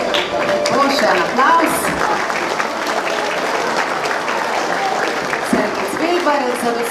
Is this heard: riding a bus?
no